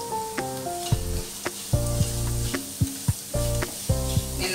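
Onions, carrots and curry leaves sizzle in a hot pan while sautéing, with steady frying crackle punctuated by repeated sharp clinks of a spoon stirring against the pan, close and clear with no talk.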